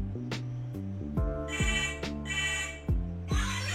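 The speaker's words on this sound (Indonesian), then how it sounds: "ini kalau kita kehilangan HP, kita bisa manggil HP kita pakai jam tangan" A smartphone rings after being called from a smartwatch to locate it, playing a loud, repeating melodic ringtone with clear stepped tones and bright chime bursts, heard alone and close.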